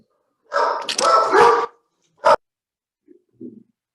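A dog barks nearby in a loud sustained burst, then gives one short sharp bark, followed by two faint soft yips, with no talk.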